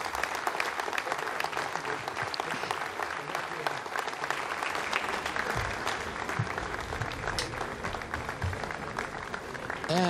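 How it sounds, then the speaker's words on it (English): Staff in the Jupiter control room applaud after the GEO-KOMPSAT-2A satellite separates from an Ariane 5 rocket, a moderately quiet, steady round of clapping spread through the room, continuing throughout with faint voices mixed in. "you heard the applause from the people in Jupiter"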